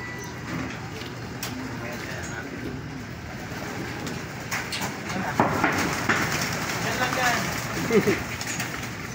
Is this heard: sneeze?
no